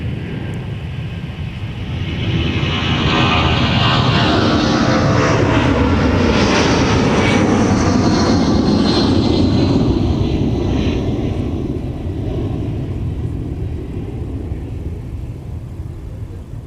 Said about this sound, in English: 757 200 departure off runway 30 left